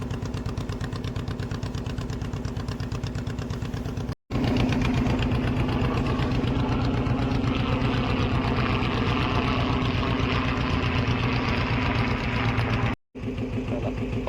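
A boat's engine idles steadily and loudly at close range in a harbour near the Atal Setu bridge, a continuous mid-pitched throb with two brief cut-outs, without talk.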